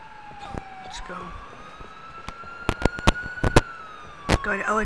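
Police car siren from LAPD units in the GTA IV game with the LCPDFR mod: a steady rising wail held throughout, with sharp clicks and bursts scattered over it and a brief warbling yelp near the end.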